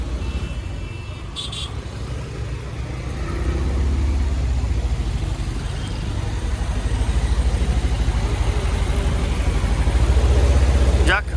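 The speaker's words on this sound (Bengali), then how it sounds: "উড়াল সড়কের উপরেও জ্যাম" Cars and CNG autos sit in a nighttime traffic jam on a Dhaka flyover, with a steady low engine idle and road rumble that grows slightly louder, close and continuous.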